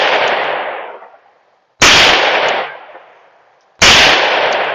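Three loud, sharp gunshots from a CZ52 Tokarev 7.62x25 pistol at an outdoor range, spaced about two seconds apart, each followed by a long echoing decay.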